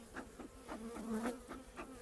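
Honey bees buzz around hives during brood-box swapping, a faint, close hum with individual bees rising and fading past in quick overlapping passes.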